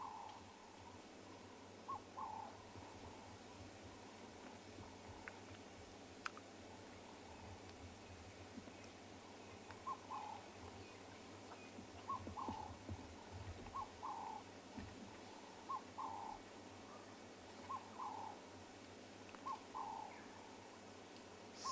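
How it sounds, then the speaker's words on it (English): At sunrise in the African bush, a bird calls repeatedly from a distance in short two-note hooting phrases every couple of seconds over a quiet hum of background noise. "If you can listen, the birds are also singing, telling us what is happening."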